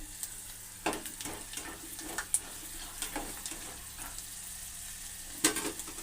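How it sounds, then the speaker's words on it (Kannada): Chana dal and mustard seeds sizzle softly in hot oil as a tempering for puliyogare, a faint steady hiss broken by scattered pops and a few stirring scrapes. "ಅದಕ್ಕೆ ಕಡಲೆಬೇಳೆ ಸಾಸಿವೆ ಬೇಯಲಿ"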